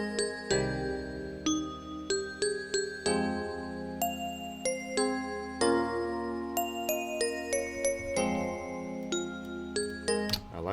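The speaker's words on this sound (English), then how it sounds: "I'm bringing it up an octave because I want the bell to be standing out as the top one." A bright synth bell melody raised an octave rings out in a beat, each struck note decaying quickly in a steady rhythmic pattern over sustained lower tones.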